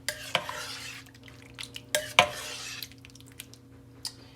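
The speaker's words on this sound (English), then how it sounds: "So let me stir that." A spoon stirs a thin, creamy mixture in a crockpot, giving close soft sloshing scrapes with a few crisp knocks against the pot's side.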